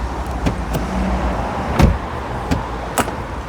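A heavy Volvo V-series diesel estate's car door shuts with a solid, muffled thud, followed by a few lighter clicks and knocks against a steady low hum.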